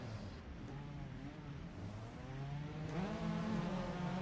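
Clio Cup race cars on the starting grid at Brands Hatch Indy, their engines revving faintly in the distance, with the pitch building and rising in the last second or so.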